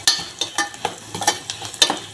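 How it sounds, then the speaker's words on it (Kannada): Salt and turmeric stirred into hot oil, a spoon scraping the pan in quick rhythmic strokes about twice a second over a faint sizzle. "ಇದು ಎಣ್ಣೆ ಜೊತೆ ಸ್ವಲ್ಪ ಮಿಕ್ಸ್ ಮಾಡ್ಕೊಂಬಿಡೋಣ ರೀ."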